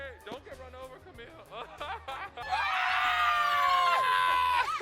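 Friends meeting up at an airport burst into loud, sustained high-pitched screaming after a stretch of chatter and laughter, the shrieks filling the second half.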